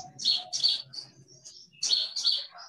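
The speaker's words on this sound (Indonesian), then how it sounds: "Ada kicauan burung yang merdu bersama angin sepoi-sepoi" Melodious songbirds chirp in quick bright bursts, a pair of trills early and another pair near the end, clear and fairly close over a soft low background.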